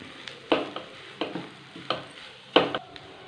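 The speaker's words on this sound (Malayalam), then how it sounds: "ഇനി ഇതുകൂടെ ചേർത്തിട്ട് നന്നായിട്ടൊന്ന് മിക്സ് ചെയ്യാം." A spoon stirs coriander leaves into a bread and egg mixture in a hot pan, with four or five regular scraping strokes over a soft sizzle, close and clear with no talking.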